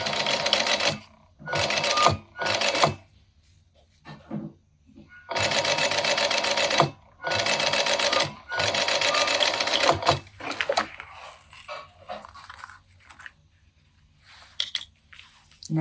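A sewing machine stitches a zipper onto exterior fabric at an eighth-inch seam, running in loud close bursts of rapid whirring separated by pauses, with softer handling noises toward the end.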